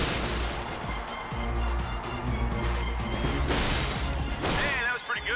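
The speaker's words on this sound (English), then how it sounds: "Let's see how well you can bash these crates." Crates being smashed in the video game Ratchet & Clank, a run of loud crashing impacts and bursts over steady game music and effects, with a character's voice talking.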